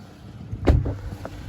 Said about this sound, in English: Go ahead and close that door.